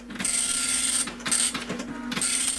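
A 1980s dot matrix printer connected to an IBM XT prints in draft mode, giving a steady buzzing rasp with a high whine in repeated passes, each lasting about a second and separated by short pauses, close and clear.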